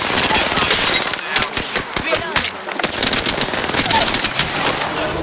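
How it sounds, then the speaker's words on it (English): Rapid automatic gunfire in Apex Legends rattles loudly and almost without pause, sharp shot after shot in dense bursts, with game effects layered beneath. "Getting shot at."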